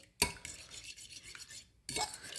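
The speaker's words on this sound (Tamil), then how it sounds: "எப்போவுமே எக் பீட் பண்ணுறதுக்கு ஃபோக் யூஸ் பண்ணுங்கள்." Eggs being beaten with a fork in a bowl with salt for a goat cheese omelette, giving quiet scraping and clinking strokes in two short bursts separated by softer stirring.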